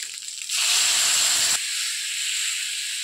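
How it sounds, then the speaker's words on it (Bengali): Broth poured into a hot pan of fried tengra fish cooked with ash gourd gives a sudden loud sizzling hiss that bursts up for about a second, then eases to a steady, softer simmering fizz. "এতিয়া জোলটো দি দিব।"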